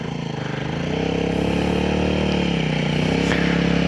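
An off-road motorcycle on a bivouac trip through Moroccan sand accelerates in second gear, its engine droning loud and close and climbing steadily in pitch with a rough, pulsing note.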